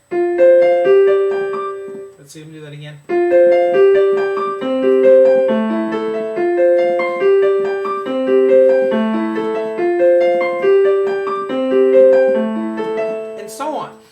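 A piano plays a bouncy, syncopated riff that stops briefly while someone speaks a few words, then starts over and repeats the pattern.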